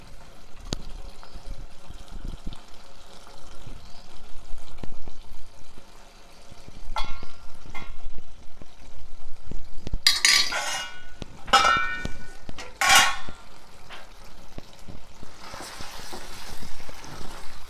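Chicken curry with cucumber, coriander powder and fresh coriander is stirred in a metal pan, with scattered spoon clinks and scrapes against the pot and a few louder clanks midway, close and without speech.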